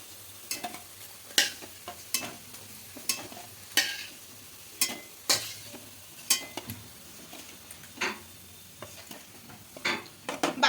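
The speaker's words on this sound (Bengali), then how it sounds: "উল্টে পাল্টে খুব ভালো করে ভেজে নিচ্ছি" Cabbage pakoras frying in a wok as they are turned over, giving repeated sharp scraping and clattering stir strokes at an uneven rhythm over a steady sizzle, close, with no talk.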